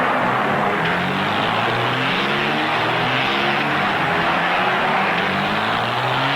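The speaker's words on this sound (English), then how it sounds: "And they're off for the 3-hour Grand Touring and Sports Car race." Sports cars thunder past at the start of the three-hour Grand Touring and Sports Car race at the 1962 Daytona Continental, loud layered engines revving and droning continuously, close up.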